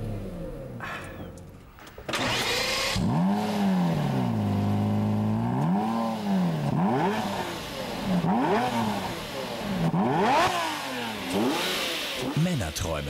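A Lamborghini Murcielago's aluminium V12 barks to life, then revs repeatedly, its pitch swooping up and down in loud, close waves while someone talks over it.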